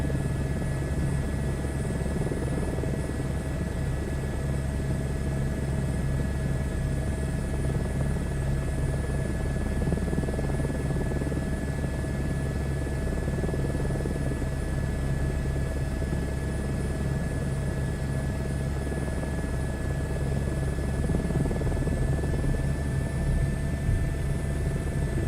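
An H125 helicopter flies in a flight simulator game, its rotor and turbine making a steady, loud drone with a constant whine and low thrum, unbroken and with no talking.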